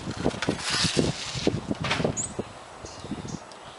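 Gusty wind rushes outdoors, buffeting the microphone with broad noise and low thumps that swell and ease throughout.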